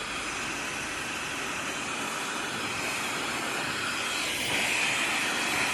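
Hair dryer blowing steadily close by while hair is styled into a centre parting, a constant loud airy rush with a slight rise near the end, no talking.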